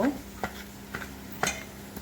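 A spoon stirs a thin batter of potato, spices and water in a bowl, giving soft scraping strokes at a steady rhythm about twice a second, quiet and close.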